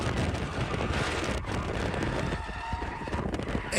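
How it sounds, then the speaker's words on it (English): A swerving car roars past with a loud rushing, skidding noise and wind buffeting the microphone, steady and close throughout. "Do you hear the swerving?"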